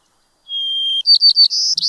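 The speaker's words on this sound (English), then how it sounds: "That is the song of the white-crowned sparrow." White-crowned sparrow singing, a single clear song phrase: a sustained whistled note followed by a quick series of buzzy trilled chirps, close and loud against silence.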